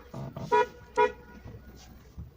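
A car horn, just repaired, gives two short close honks about half a second apart, followed by faint background noise and a few light knocks.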